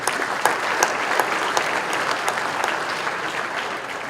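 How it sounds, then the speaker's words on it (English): An audience at a President's Awards ceremony claps in a sustained, dense round of applause that stays loud and even throughout. "let's give a round of applause for them as well"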